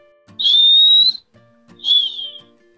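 Two shrill, steady whistles from a whistle candy blown by sucking in air, the first long and even, the second shorter and slightly falling, with a brief pause between them.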